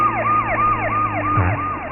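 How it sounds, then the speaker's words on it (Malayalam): An ambulance siren wails loudly and close by, rising and falling in a steady repeating cycle as the emergency vehicle drives past on the road. "ആംബുലൻസ് എങ്ങോട്ടാ പോകുന്നത്?"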